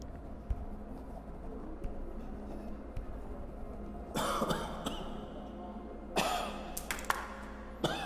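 A character coughs a few times inside the horror-mystery game The Shattering, short rough bursts around the four, six and seven second marks over a steady low ambient hum.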